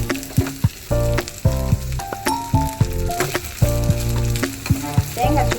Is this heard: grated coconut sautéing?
yes